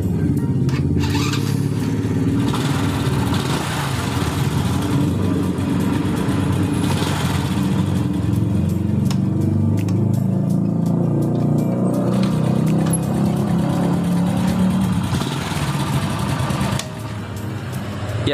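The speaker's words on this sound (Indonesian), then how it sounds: "Cari putaran mesin yang paling tinggi ya untuk setelan angin" Stock Honda Astrea Grand motorcycle engine running steadily during carburetor air-screw tuning, a continuous close, loud mid-pitched drone held at high idle throughout, no talk over it.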